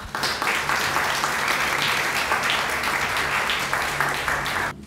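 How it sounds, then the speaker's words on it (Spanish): A crowd claps steadily at a university honorary doctorate ceremony, loud and continuous for several seconds before stopping abruptly near the end. "Un aplauso, por favor."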